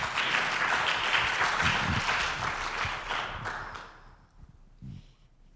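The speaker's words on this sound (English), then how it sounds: "Can you give her a round of applause, please?" An audience applauds at an inclusion talk, with sustained, lively clapping that thins out and dies away over the last seconds into near silence.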